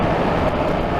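Triumph Trident 660 motorcycle engine with the throttle opened, a steady, loud broadband drone that holds evenly for about a second with no voices over it.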